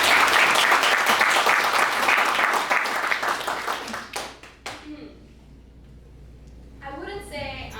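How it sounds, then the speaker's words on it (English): Audience applause after a student's TED-style talk, a dense burst of clapping for about four seconds that thins and fades, followed by quiet room tone and a voice starting to speak near the end. "Let's give her a round of applause."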